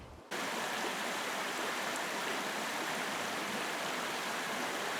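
Water in a shady creek flows over rocks and moss-covered boulders, a steady, close rushing wash that starts abruptly and holds at an even level throughout.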